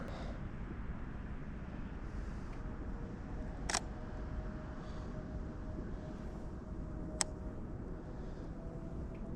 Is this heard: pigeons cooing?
no